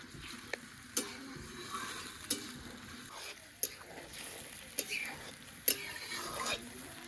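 Fish frying in a pan, a faint sizzle with scattered ticks and clinks of stirring at irregular intervals, no talk.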